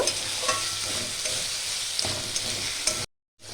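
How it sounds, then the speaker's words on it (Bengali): Spice masala with six or seven green chillies stir-fried for chicken do pyaza, a close, steady sizzle with spatula scrapes and clacks, cutting off abruptly near the end. "এবার মশলাটা আমি ভালো করে একটু কষিয়ে নেব"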